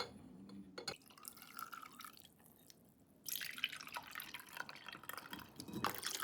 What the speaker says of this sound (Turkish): Muhteşem içeceğimizi ılık haline geldikten sonra süzüp alıyoruz.